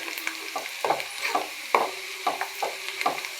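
Fenugreek seeds dropped into hot oil crackle and sizzle in a steady hiss, with clustered bursts of popping spread through the whole stretch, close and fairly loud, no voices.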